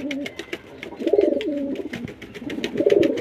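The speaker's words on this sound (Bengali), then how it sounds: "খুব সুন্দর পায়রা।" Several domestic pigeons in a backyard loft coo steadily nearby, rolling low throaty phrases swelling in two waves over a busy background of light clicks and rustling.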